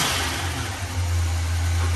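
A 1981 GMC Sierra truck engine that sat for years, revving loudly up close with a deep steady rumble that swells slightly in the second half, no voices over it.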